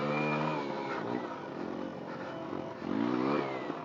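A Sinnis Apache enduro motorcycle engine is blipped with the throttle, rising and falling in pitch, then revving up again; the sound is moderately close and fairly quiet.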